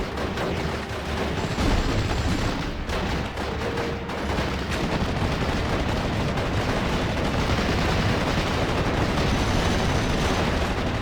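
Continuous rumbling battle din from Steel Division: Normandy 44, mortar rounds landing on tanks amid overlapping gunfire and explosions, loud and dense without a break, mixed under a low voice.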